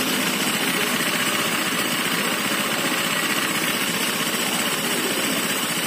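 A Honda Vario FI 125 scooter engine running rough, with worn piston and block, produces a steady, loud, dense mechanical clatter and hum throughout, close by with no talk.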